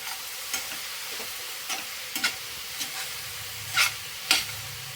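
Chopped tomatoes being stirred into a frying bitter gourd gravy in a pan, a soft continuous sizzle broken by several sharp spoon scrapes at irregular intervals.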